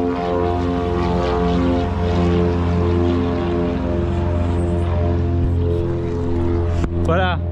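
A loud propeller plane drones steadily close overhead, flying low over a boat near Culebra, its engine hum constant and powerful throughout, with a brief high whine near the end.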